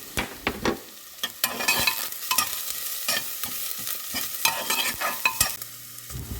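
Green chillies drop into a frying pan for a salmon fish curry, sizzling steadily while a spoon stirs and scrapes in repeated bursts, close and clear with no talk.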